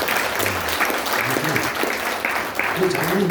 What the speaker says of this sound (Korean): 감사하다고 한번 큰 박수 한번 부탁드리겠습니다.